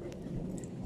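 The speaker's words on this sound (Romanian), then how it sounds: "Dar acum văd că tună și plouă." A low, brief rumble of thunder rolls during a rainy spell, steady and muffled, heard alone without talking for under a second.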